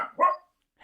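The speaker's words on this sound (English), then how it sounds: "She's taking a barking break." A single dog bark rings out close and fairly loud, a short sharp burst followed by silence, with the start of another faint sound right at the end.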